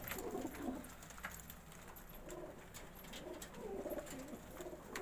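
Golden and other domestic pigeons coo repeatedly in soft, low rounded phrases over a steady background hum, several birds overlapping at close range.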